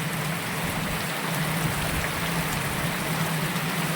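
Steady rain falling on a surface, a dense even hiss with scattered drops, constant and fairly loud throughout, no talking.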